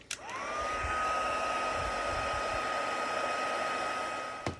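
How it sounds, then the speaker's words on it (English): An embossing heat tool blows hot air over cardstock in a steady, close, continuous whir with a faint high whine, switched on at the start and off at the end, with no voices. "All right, heat tool again."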